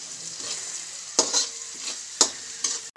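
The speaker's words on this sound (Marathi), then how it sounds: "आता मी 1 वाटी गाजर घालणार आहे, हा पण चांगला फ्राय करून घेणार आहे आपण।" Carrots and onion frying in a pan: a steady close sizzle with occasional scraping stirs and clatters from a spoon against the pan.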